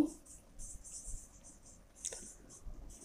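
Marker or chalk writing on a board during a chemical bonding lecture, heard as soft, close scratchy strokes in short bursts, with a louder stroke near the middle, over quiet room tone.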